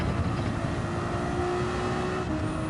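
A steady engine drone in Gran Turismo 7 with a whooshing, whistling turbo note as the throttle lifts, continuous and fairly loud.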